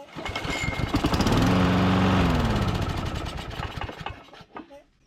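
A repaired self-propelled lawn mower engine starts and runs loud and close, a steady buzzing roar that holds for several seconds before sputtering and dying down at the end.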